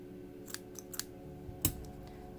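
Scissors snip yarn for an amigurumi figure, a few quiet metallic clicks of the blades closing and then one sharper cut, all close and isolated against a faint room hum.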